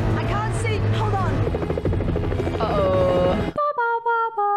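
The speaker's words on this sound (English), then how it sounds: "You see the chopper?" A helicopter from the James Bond film Tomorrow Never Dies throbs loudly under excited voices, then gives way to sparse, ringing tonal notes.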